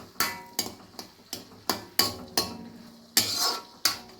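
A spoon scraping and clanking in a pan as avakaya mango pickle and white rice are mixed into fried rice, about ten sharp metallic knocks in an uneven rhythm, close and fairly loud with no talking.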